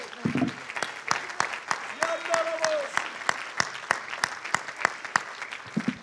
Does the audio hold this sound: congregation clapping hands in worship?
yes